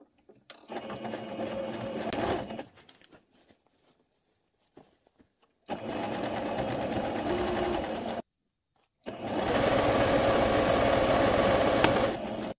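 A sewing machine stitching the folded hem of a viscose skirt in three separate bursts of rapid mechanical chatter, close and clear, with near-silent pauses and faint handling between runs.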